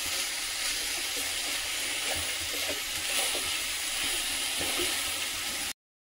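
Aliv (halim seed) ladoo mixture sizzles and hisses steadily in a pan as it is sautéed until thick, a continuous close frying sound with faint stirring scrapes, cutting off abruptly just before the end.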